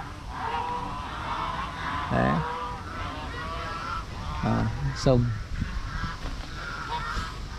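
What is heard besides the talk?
flock of geese honking by a river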